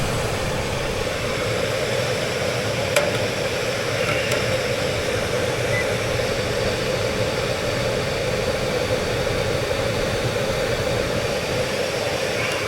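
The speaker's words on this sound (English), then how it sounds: "The only thing that looks like it's running is my blower." An HVAC air handler blower runs on its own, a steady, even broadband whoosh of moving air with a low hum that holds unchanged throughout, with no voices.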